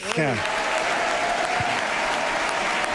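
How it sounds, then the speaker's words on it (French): Steady applause from a crowd, continuous clapping at an even level throughout, with a brief voice heard near the start. "Oui, continuez à applaudir."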